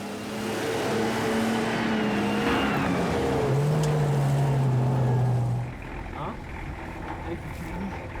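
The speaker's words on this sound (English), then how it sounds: "Once again, our car gets stuck in the rough terrain." Car struggling in rough terrain on an African village road, an engine straining and whining loudly for several seconds, then dropping away to a quieter idle and ambient rumble.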